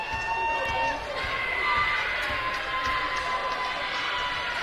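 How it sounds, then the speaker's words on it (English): Crowd at a high school basketball game between Irene-Wakonda and Centerville, stirred up and clamoring over a disputed blocking call, a steady dense roar of voices heard close and loud throughout. "this crowd is fired up"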